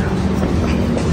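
The Sangamitra Super Fast Express rumbles at Kuppam station, making a loud, continuous heavy rolling and mechanical drone for a short moment.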